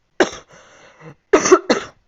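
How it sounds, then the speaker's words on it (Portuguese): Several loud, close coughs from a woman teaching a Brazilian criminal law class, a burst at the start, a quieter throat-clearing stretch, then two more sharp coughs, with no talk. "já começou a tossir"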